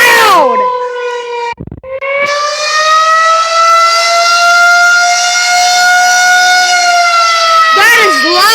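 Tornado civil defense siren sounding during a test, a very loud, close, sustained wailing tone that briefly dips and then swells again, with a person's voice heard near the start.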